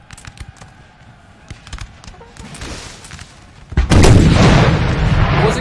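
Cannon fire from 12-pounder and 8-pounder guns in the Napoleon Total War video game, beginning with light crackling and thuds, then a loud heavy volley of booms that rumbles on and sustains to the end.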